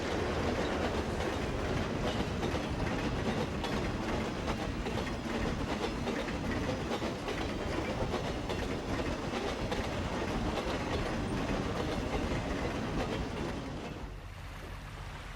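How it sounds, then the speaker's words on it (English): An eastbound passenger train pulled by an Alco PA diesel locomotive runs along the Oregon side of the Columbia River Gorge. A steady, loud rumble and clatter of rolling cars fills the scene, then drops off sharply near the end. "This is an eastbound train on the Oregon side of the Columbia River Gorge"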